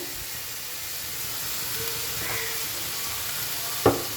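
A paste of poppy seed, ginger, garlic and green chilli frying in a wok, a steady soft sizzle and hiss with a brief scrape of stirring near the end, no talk.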